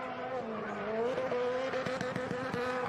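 Travis Pastrana's Huckster car sliding through a gymkhana course at Sonoma Raceway, its engine wailing with rising and falling pitch and rapid throttle blips, heard from a distance, loud and continuous.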